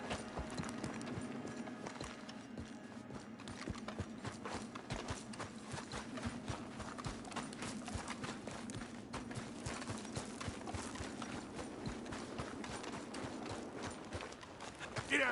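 Horse hooves clip-clop steadily in Red Dead Redemption 2 as the horse moves at a brisk, even gait. The rhythmic beats are close and carry on for about fifteen seconds over a low outdoor ambience.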